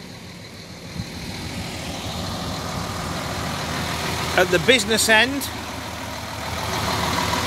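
2013 Neoplan P20 Tourliner coach with a Euro 5 MAN engine idling, a low steady rumble running beneath a man's speech and a brief tonal squeal midway.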